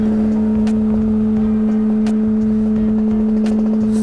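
A Yamaha New Vixion motorcycle riding on the road fitted with MT-25 handlebars, its engine droning steadily with a strong constant hum and light wind and road noise, no talk.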